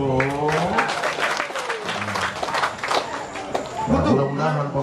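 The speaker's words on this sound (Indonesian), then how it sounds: "Tepuk tangan tuh." Congregation applause at a church thanksgiving Mass for a Toraja family association's 47th anniversary in Kendari, a steady crowd clapping throughout while someone speaks and laughter rises over it.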